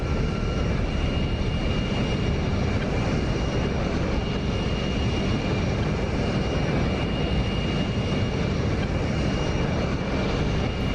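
A steady, loud jet engine roar from an F-35C in a DCS flight simulation holds a constant broadband rumble with a faint high whine throughout, with no voices.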